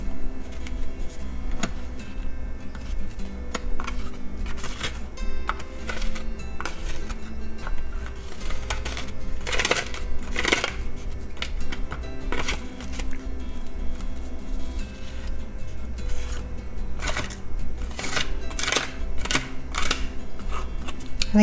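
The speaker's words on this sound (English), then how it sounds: "you can use the spreader card to spread this around" A spreader card scraping herbal powder across a capsule-filling machine for a cold and flu remedy, heard as steady close scratching with repeated sharp clicks and taps throughout.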